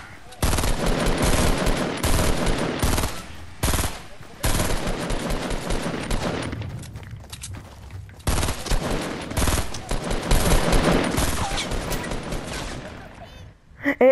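Rapid automatic gunfire bursts in the video game Fortnite, loud and sustained across several long volleys separated by short pauses.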